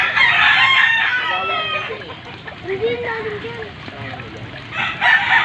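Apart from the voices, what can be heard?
rooster crowing and chickens clucking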